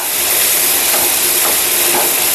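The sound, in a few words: lightly frying grated coconut in a pan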